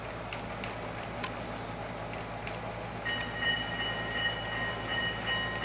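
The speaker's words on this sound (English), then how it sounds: "And in the background you hear one of our steam engines running in." Steam locomotive running into a station track at Childress on the Santa Fe railway, a quiet distant rumble with faint ticking and clanks, and a thin high wheel squeal entering in the latter half.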